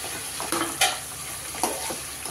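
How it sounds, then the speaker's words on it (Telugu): Drumstick pieces sizzle in hot oil for home-style sambar while a spoon stirs them, with a steady frying hiss and a few scraping strokes against the pan, close and without talk. "కొంచెం నూనెలో ఉడికేటట్టు మొత్తం కలుపుకోవాలి నీట్గా."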